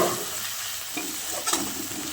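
Onion, cumin and turmeric masala frying in a pan for a pomfret fish recipe, a steady close sizzle broken by a couple of scraping stirs, with no talking.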